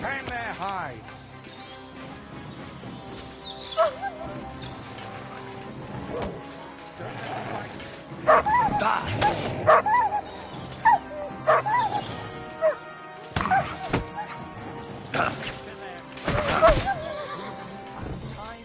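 A dog barks and snarls while attacking another dog in the medieval game Kingdom Come Deliverance, with sharp yelps and growls in bursts over horse sounds and talking voices, the barks growing louder and more frequent in the second half.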